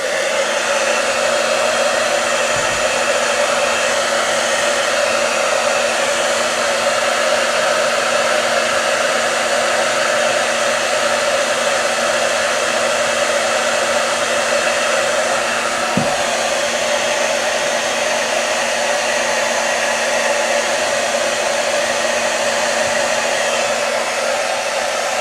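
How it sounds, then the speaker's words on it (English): A hair dryer on its low setting runs continuously at a steady, even whir for the whole stretch, loud and close, with no voices. "pull out our trusty blow dryer. Alright, remember low setting"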